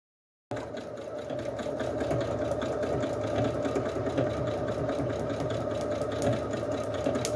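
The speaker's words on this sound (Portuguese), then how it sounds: "Costuro primeiro as duas tiras do lado direito e do lado esquerdo e depois eu posiciono a tira maior para fazer a costura" A sewing machine stitches fabric strips for a phone and card holder, its motor starting after a moment and then running in a continuous, even whirring hum at close range.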